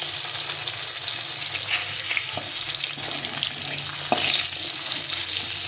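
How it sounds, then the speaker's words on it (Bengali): Fish pieces frying in a pan, a constant close hiss of hot oil with a few faint taps and clinks, no voices. "দেখো মাছগুলো সুন্দরভাবে ভেজে নিতে হবে যেন ভেতরটা ভালো করে ভাজা হয়"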